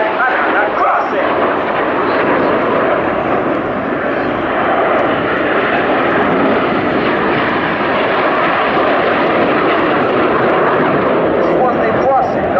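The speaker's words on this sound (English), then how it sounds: "4 aircraft to the right, 5 to the left, once more time, and crossing." Frecce Tricolori aerobatic jets crossing overhead at an air show, a loud sustained broadband engine roar that holds steady throughout, with a voice talking over it.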